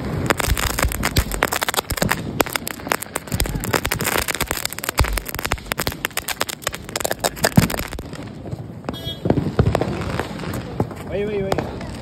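Deepavali firecrackers and fireworks going off outdoors, a dense rapid crackling barrage of pops and bangs that continues loud for several seconds, then thins into scattered cracks while voices talk in the background.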